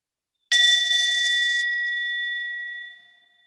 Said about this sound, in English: turn your attention to the bell and see if you can follow it till you don't hear it anymore